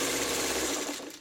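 A sewing machine stitches quilt blocks in one fast, steady whirring run up close, then slows and stops.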